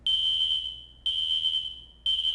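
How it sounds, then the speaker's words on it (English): Fire alarm horn sounding in a building, a loud, piercing electronic tone blaring in three evenly spaced pulses of about a second each, alone and close. "You hear an alarm, a horn sound"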